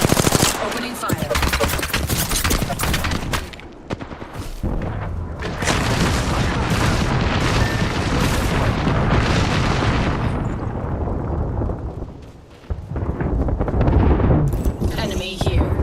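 Sustained video game combat roars with rapid gunfire and heavy booming explosions, loud and dense for most of the stretch, briefly dropping away before erupting again, with voices speaking over parts of it.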